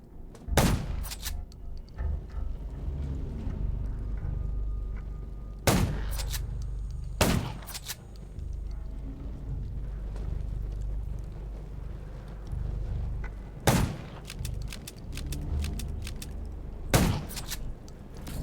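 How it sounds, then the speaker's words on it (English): Gunfire in the zombie survival video game Undawn: several sharp, loud shots spaced apart over a continuous low rumbling game ambience, with no talking. "Gunshots will attract him."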